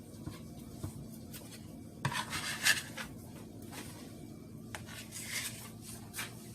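Beef ravioli casserole ingredients being placed into a pan, heard as soft rubbing and scraping with light clinks of utensil on cookware, busiest in a short cluster midway, quiet and close with no talking.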